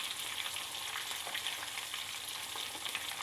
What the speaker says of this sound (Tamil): ஒரு பக்கம் ஃப்ரை ஆனவுடனே இன்னொரு பக்கம் பிரட்டி போட்டுக்கணும்